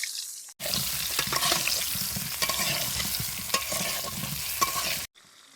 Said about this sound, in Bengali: এবার তেলে পটল গোনা একটু হালকা করে ভেজে নেবো।